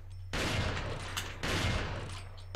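Two heavy gunshot blasts in Resident Evil 4, each followed by a booming decay, spaced about a second apart, loud and close with no speech.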